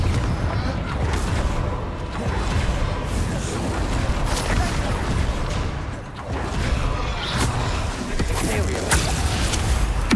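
Rumbling magical blasts from Confringo or Bombarda spells in the video game Hogwarts Legacy, a steady dense roar of booms and crashes that runs throughout at moderate loudness, with no voices.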